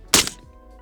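A single 5.56 rifle shot fired with iron sights at a thermal target, a sharp loud crack with a short decaying tail, standing alone.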